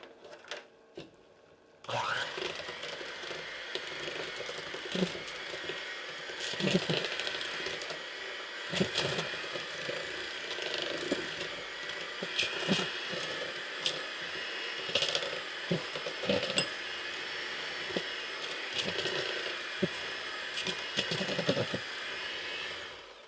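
Banana bread batter being mixed after half a cup of Crisco oil goes in, a steady scraping and clattering churn that runs nearly the whole time with small knocks and bumps, close and alone with no talk.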